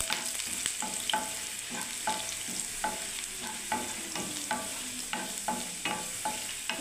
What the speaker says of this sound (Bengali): আগে এগুলোকে একটু ভেজে নিই বন্ধুরা